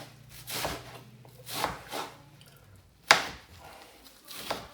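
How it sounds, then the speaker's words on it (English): A knife chops through long, folded chives on a cutting board, giving several separate soft cuts spaced about a second apart, with one sharper, louder stroke near the end. "I fold them, and then I'm gonna cut through one more time"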